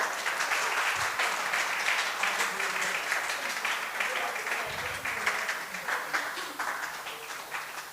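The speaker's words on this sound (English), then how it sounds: "Big round of applause for Pratibha ji." A crowd at the grand opening of a Hindu temple and community centre gives a long round of applause, many hands clapping steadily and densely for the full stretch, with brief voices and murmurs mixed underneath.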